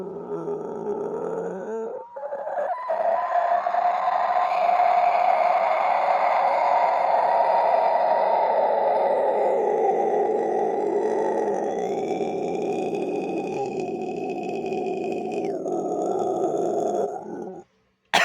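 A person's voice imitates a monster, pushing out long, loud, close growls and guttural roars that rise and strain, shifting pitch, and then cut off abruptly near the end.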